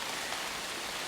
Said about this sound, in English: And here comes the rest of the rain.